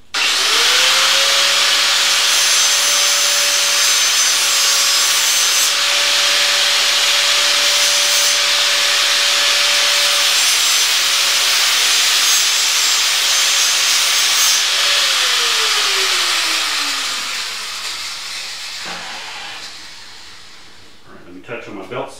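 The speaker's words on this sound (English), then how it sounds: "I'm gonna go over here real quick on a grinder." A grinder sharpens the edge of a steering pump pulley. A loud, steady whine and grinding rasp run for most of the clip, then wind down as the wheel slows near the end.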